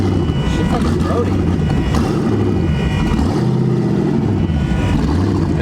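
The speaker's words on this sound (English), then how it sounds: "Cruising the RX7 in the parking lot." A twin-turbo Mazda RX7 rotary engine rumbles steadily at idle in a parking lot with slight revving swells, loud and close, while people talk over it.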